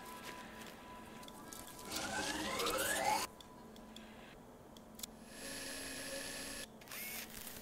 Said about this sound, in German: Ich glaube, den Bohrer muss ich auch irgendwann mal verbessern noch.